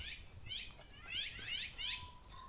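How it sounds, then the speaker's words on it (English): Wild birds sing in a forest on a morning, with several bright, chirping phrases repeating close by against a quiet background. "This is actually a really great place for bird sounds,"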